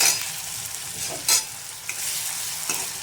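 Onion with ginger and garlic sautéing in hot oil for a broccoli sabzi, a steady bright sizzle close up with a few stirring scrapes over it and no voices.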